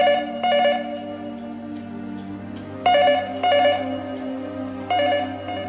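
A telephone rings inside a house in repeated bursts of bright trilling bell, about three rings with short gaps between, clear and moderately loud.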